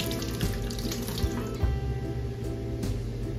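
Cheesecloth rinsed under a running kitchen tap after straining grape juice, a steady close stream of water splashing into a sink with faint handling sounds and no talk.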